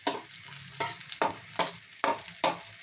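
Garlic sizzles in a pan, broken by six evenly spaced scraping strokes of a utensil as it is stirred, each stroke a sharp bright rasp over the steady frying hiss, close and with no talk.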